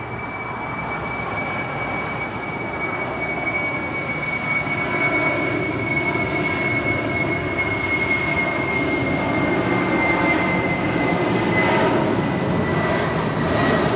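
Asiana Cargo jet at LAX, a sustained jet engine roar with a high tonal whine, slowly building in loudness across the span with no voices.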